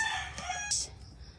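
A rooster crows once, a loud, close cock-a-doodle-doo with rising and falling strained notes, fading into a quiet rural outdoor background under trees.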